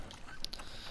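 Water sloshes into a bucket as it is filled in the Uncharted 4 video game, a faint, brief watery sound with a couple of soft splashy blips, heard alone without talk.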